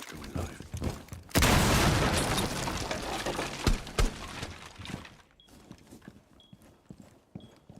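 Breach charge detonating in Rainbow Six Siege, a sudden loud blast that roars and crackles with falling debris for several seconds, framed by scattered footsteps and sharp impacts before and after.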